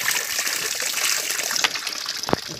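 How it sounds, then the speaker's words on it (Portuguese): Water trickling and splashing over a white double-sided sharpening stone, one side for coarse grinding and one for honing, as a blade is worked on it; a steady near wet hiss with brief splatters, no talk. "Essa daí tem que ir jogando água."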